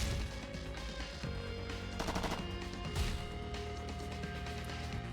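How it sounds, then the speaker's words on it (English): Automatic rifle fire in a first-person shooter video game, a full magazine sprayed in rapid dense bursts that stay loud and continuous throughout. "Let me just keep spamming the full mag."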